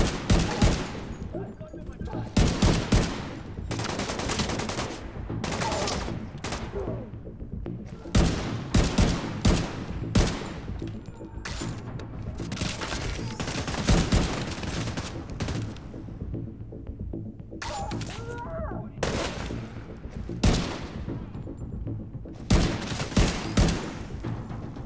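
Automatic weapon fire with incendiary rounds in the video game The Division 2, loud repeated bursts of rapid shots separated by short pauses, continuing throughout, with a voice speaking occasionally between volleys.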